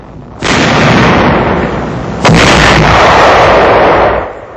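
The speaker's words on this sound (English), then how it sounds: "A tank of the 2nd Armored Division opens fire." A tank gun of the 2nd Armored Division fires in 1945 combat, a loud continuous roaring blast with a second heavy boom surging in midway before it cuts off, harsh and overwhelming throughout.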